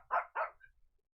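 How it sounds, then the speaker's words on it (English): A dog barks twice in quick succession, fairly close and clear, followed by a faint short whimper and then quiet. "Don't bark."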